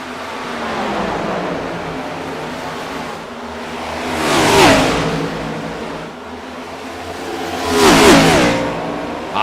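Stock cars racing at Charlotte in the iRacing video game, engines droning steadily as two loud passes rise and fall, each roaring up close before fading away.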